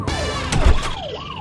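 An ambulance siren wails in a rising and falling electronic sweep, loud and close, heard alone for a brief moment.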